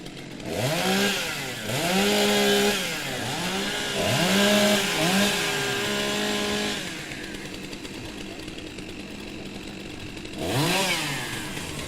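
STIHL chainsaws rev in repeated rising bursts while warming up at a timbersports competition, each throttle blip swelling loud and close before dropping back to a rough idle, with a final rev near the end.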